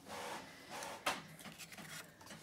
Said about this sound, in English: excuse that printer